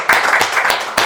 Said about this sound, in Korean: 박수 소리 들으셨죠?